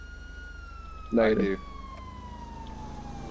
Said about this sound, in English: Do you have a siren on?